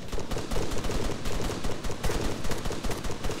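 Sustained, dense gunfire across a bridge in a video game, loud and continuous, with rapid overlapping bursts and no pauses throughout.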